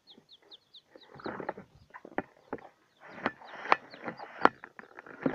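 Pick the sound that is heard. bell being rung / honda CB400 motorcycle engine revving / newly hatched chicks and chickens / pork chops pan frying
newly hatched chicks and chickens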